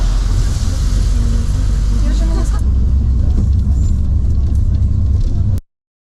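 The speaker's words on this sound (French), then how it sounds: "notre bus, c'est parti pour 7 ou 8 heures de bus." A long-distance bus driving in Ukraine: a steady low engine drone and road rumble inside the vehicle, loud and continuous, with voices talking over it before it cuts off abruptly near the end.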